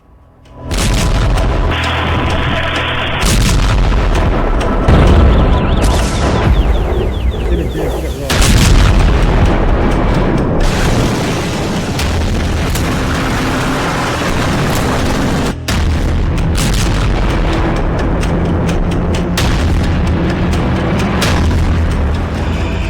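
Heavy bomb explosions in a Gulf war setting, deep booms and rumbling blasts following one another over a long stretch, loud and densely layered with crackling debris and scattered distant detonations.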